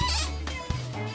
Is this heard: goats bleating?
yes